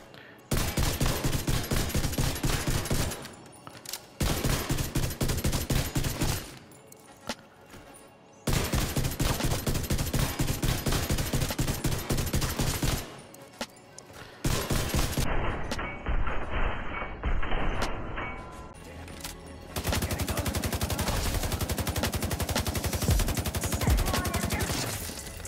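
Weapon fire in The Division 2 video game, with a mid-to-long-range build: loud, steady rapid shots in long sustained runs, broken by brief pauses, close and dominant.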